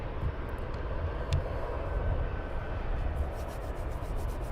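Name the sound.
aircraft arriving and departing at Luton Airport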